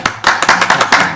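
Applause from an audience at a zoning board of appeals meeting: a short burst of dense hand clapping, moderately loud and fairly close, with no talking over it.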